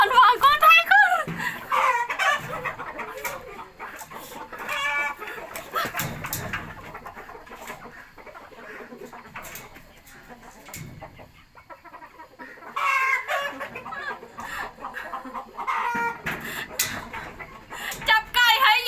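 Farm chickens cluck and squawk close by, restless and agitated while being caught and handled, and people talk steadily over the birds' noise.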